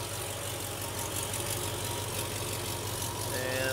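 Supercharged Mercedes E55 wagon engine idling, a steady low rumble heard up close, with a faint rapid ticking from an exhaust leak running under it.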